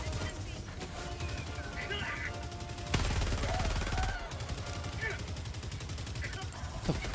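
Rapid bursts of gunfire in a video game strike at players, sustained and fairly loud in a dense crackling barrage with a heavier volley midway.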